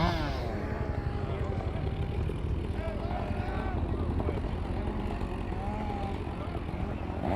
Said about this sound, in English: There's that plane up there, there's the other one there, and then there's this chopper up over here.